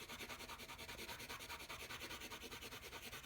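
A Neocolor II water-soluble wax pastel crayon scratches rhythmically across paper in quick, even back-and-forth strokes, close and faint, with no talk.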